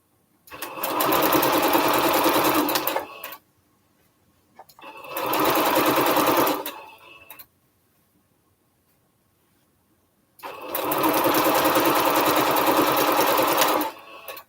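Domestic sewing machine stitching quilt strips for a Triple Irish Chain quilt, running in three loud steady bursts of a few seconds each with quiet pauses between, no talking.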